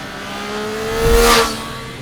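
A three-cylinder motorcycle engine whines past, rising to a loud, close peak and then fading, with a steady mechanical hum throughout.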